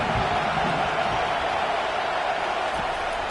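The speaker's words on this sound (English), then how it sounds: "Decibels rising as the crowd gets behind this defense on third down." A packed college football stadium crowd at a Wisconsin vs Nebraska game roars steadily on third down, a dense, constant wash of cheering and noise with no breaks.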